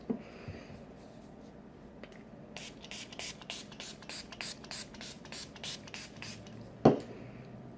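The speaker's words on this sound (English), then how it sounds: "Now I'm going to spray it with setting spray and we will be finished." Makeup setting spray misted onto a face in a quiet room, a quick series of short pumped hisses in a steady rhythm, close and clear, followed by a single louder tap.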